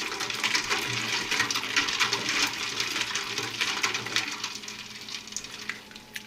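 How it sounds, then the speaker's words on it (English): Two quarts of ice stirred into liquid in a container for chilling smoked neck bones, giving a steady wet swishing and rattling clatter throughout, fairly close and continuous with no talk. "I'm gonna go ahead and add 2 quarts of ice. Let's stir that in"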